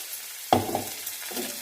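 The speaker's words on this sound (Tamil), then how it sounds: "அரைச்சி வச்சுருக்கக்கூடிய இந்த தக்காளியை வந்து இதில் ஊற்றிடலாம்." Ground tomato paste poured into hot oil with mustard seeds and curry leaves for a spicy tomato chutney, giving a sudden loud sizzle that eases into steady frying and stirring.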